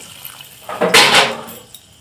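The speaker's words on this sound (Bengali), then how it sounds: "এবারে আমি এক বাটি মতো জল দিয়ে দিলাম দিয়ে আমি পাঁচ মিনিট ফুটিয়ে নেব" Water from a bowl poured into a pan of Bengali egg curry, a short splashing pour swelling for about a second and then trailing off, close and alone.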